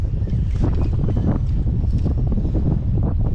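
Strong wind roars across the microphone in a constant heavy rumble on an inflatable boat off the Mediterranean coast at Akdeniz, with faint splashing of water beneath it.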